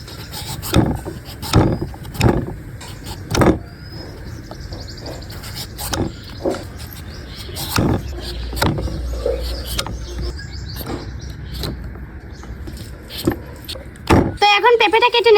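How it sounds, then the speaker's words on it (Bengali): Raw papaya being peeled with a hand peeler: a series of sharp scraping strokes at an uneven pace, close by, with birds chirping and some background noise in between. "প্রথমে মেশিন দিয়ে পেঁপেটা ছুলে নেব।"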